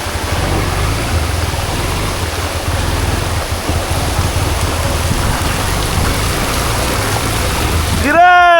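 Heavy rain pours steadily onto a muddy hilly road during a motorbike ride, a loud continuous wash of water. A rising whine comes in at the very end.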